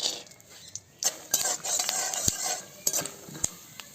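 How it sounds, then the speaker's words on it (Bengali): Peanuts and dry red chillies fry in mustard oil in a wok, giving a soft steady sizzle broken by sharp metallic scrapes and clinks as a spatula stirs them against the pan. "প্রথমে কয়েকটা শুকনো লঙ্কা আর এই যে বাদাম নিয়েছি, বাদাম কটা ভেজে নেব"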